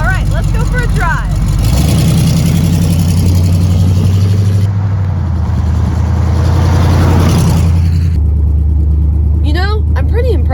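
A 1979 Chevrolet Camaro Berlinetta's engine running while driving, a loud steady low drone that rises and shifts with gear changes, with people talking inside the car over it.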